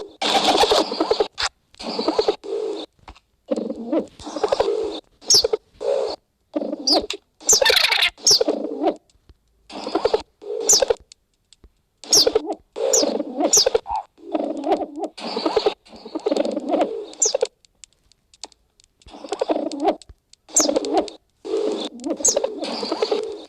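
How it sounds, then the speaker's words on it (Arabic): A bird added by a mod in the video game Minecraft coos again and again in short, close bursts separated by brief silences, with no talk over it. "هذا طير."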